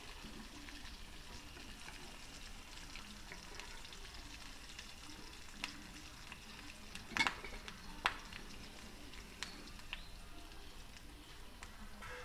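Corn vadas frying in hot oil, a faint, steady bubbling hiss with a few brief clinks and pops standing out near the middle, quiet and unbroken.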